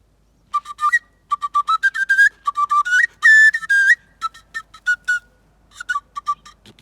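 An oja, a wooden end-blown flute, plays a quick run of short bright whistled notes in irregular bursts with small pitch slides, close and clear with no talk.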